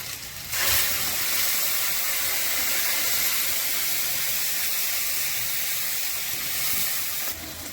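Ground tomato, onion and cashew paste hits a hot oiled pan with a sudden loud sizzle that holds as a steady, close, broadband hiss, then cuts off near the end.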